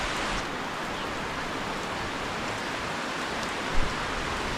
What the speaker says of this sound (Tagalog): Tignan natin to kung lumakas ba yung ulan na to.